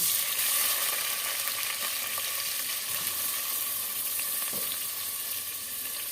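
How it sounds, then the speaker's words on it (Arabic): Rice sizzles and crackles as it sautés in local ghee in a pan, a steady close frying hiss with occasional scraping stirs. "هحط بقى الرز عشان اشوحه"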